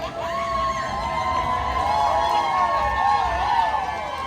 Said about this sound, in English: somebody just got like married or something and everybody's cheering